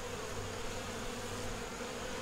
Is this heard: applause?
no